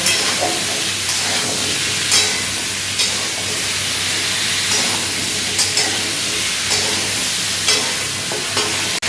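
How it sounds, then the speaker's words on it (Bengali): Pumpkin pieces seasoned with turmeric water and salt fry in a pan, a steady dense sizzle with repeated stirring scrapes at irregular intervals, close and fairly loud, with no talking. "এটাকে আবার একটুক্ষণ ভেজে নেব"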